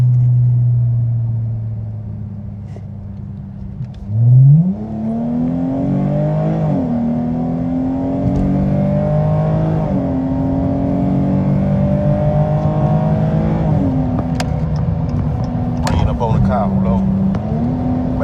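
A V6 Dodge Challenger-type car fitted with a 3.90 limited-slip rear end downshifts and then accelerates, its engine note climbing through the gears with a steady, close-up rumble inside the cabin.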